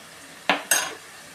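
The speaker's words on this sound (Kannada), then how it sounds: "ಈ ಮಂಡಕ್ಕಿ ಹಾಕ್ತಾಯಿದ್ದೀನಿ" Puffed rice (mandakki) tipped into a cooking pot in two short rattling, rustling bursts, close and alone with no talk.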